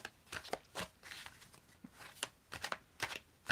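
Tarot cards being shuffled by hand, heard as a run of crisp, papery riffling bursts in an irregular rhythm. The sound is close and fairly quiet, with short pauses between the bursts.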